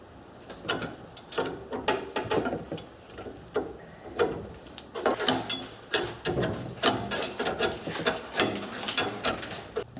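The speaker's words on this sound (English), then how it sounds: "you just slowly turn both ends, and it will compress the spring" Spring compressor being turned by hand to compress a late-model Subaru front strut coil spring, a series of close, irregular ratcheting clicks and metallic clacks in bursts, with no talk.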